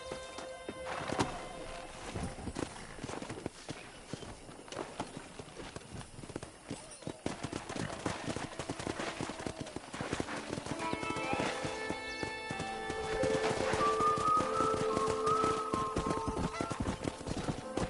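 Horse hooves clip-clop and pound in a busy rhythm in the video game Red Dead Redemption, with a horse neighing and whinnying later, plus faint voices and music underneath.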